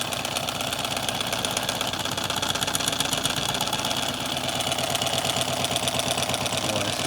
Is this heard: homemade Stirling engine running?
yes